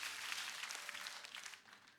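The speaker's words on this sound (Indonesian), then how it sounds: "Tepuk tangan yang paling dahsyat buat Tuhan." A church congregation gives a short burst of applause, a dense, fairly distant wash of clapping that thins out toward the end.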